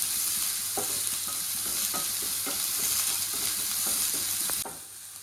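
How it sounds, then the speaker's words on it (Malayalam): Chopped ingredients are stirred in a hot pan while making fried fish masala, rhythmic scraping strokes over a continuous oily sizzle, close and loud, ending abruptly. "ഒന്നുകൂടി ചേർത്തിട്ട് നന്നായിട്ടൊന്ന് ഇളക്കി കൊടുക്കാം"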